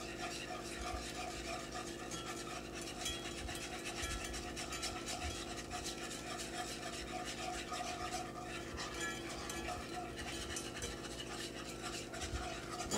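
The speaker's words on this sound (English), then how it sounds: "Make sure you're scrubbing that pan with that whisk." A whisk scrubbing the bottom of a pan as a steak au poivre pan sauce is whisked, producing a continuous close metallic rasping and scraping with no voices.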